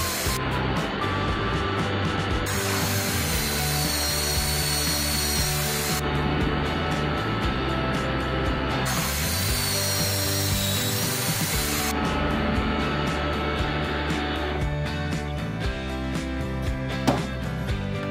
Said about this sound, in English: drilling 6 inches completely straight is very hard for me